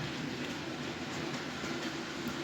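A model train rolls along its track with a steady, faint rumbling clatter that continues without pause and has no voices over it.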